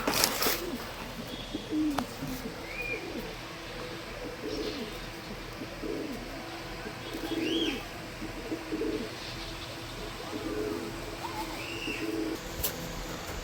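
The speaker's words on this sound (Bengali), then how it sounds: "পায়রাটা পিঞ্জায় ছাড়ছি" A restless pigeon just put into a cage gives soft, low coos several times, faint and close, with a few brief higher chirps over a quiet background.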